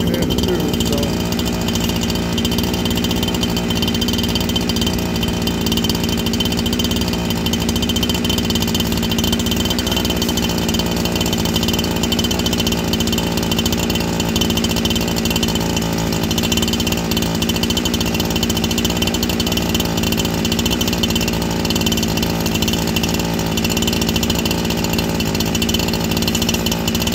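A new old stock Husqvarna 372xp chainsaw idles just after its first start, its engine running at a steady, loud, continuous buzz without pause or throttle change.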